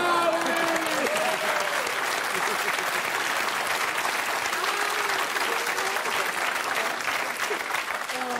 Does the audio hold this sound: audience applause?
yes